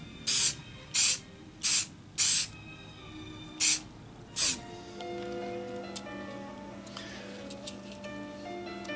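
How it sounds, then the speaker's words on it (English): Six short, loud hissing bursts of a spray paint can, evenly spaced over several seconds, followed by quieter faint rattles and tones. "and add a little spray paint."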